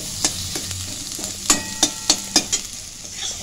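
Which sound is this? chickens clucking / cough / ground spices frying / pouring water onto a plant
ground spices frying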